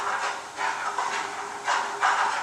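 Chili sizzles as it fries in hot oil, giving a soft, steady hiss that swells in gentle bursts, fairly quiet and with no voices over it.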